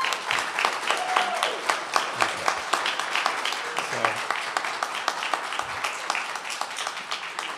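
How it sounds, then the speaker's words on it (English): A church audience at a Sunday service gives a round of applause to honored volunteers before a gift presentation. Distinct claps repeat in a fairly rhythmic pattern while someone speaks briefly over them. "how about a nice round of applause?"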